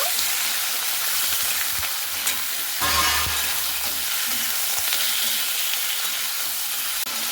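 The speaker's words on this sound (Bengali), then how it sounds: "চিকেনটা কিন্তু একটু ভেজে নিতে হবে 2-1 মিনিট" Chicken sizzles in a pan of hot oil while being stirred, a continuous crackling fry with occasional scraping and clinks from the stirring.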